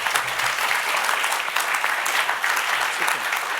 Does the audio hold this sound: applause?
yes